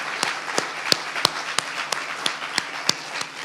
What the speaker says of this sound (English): Let's give him a round of applause for what he does.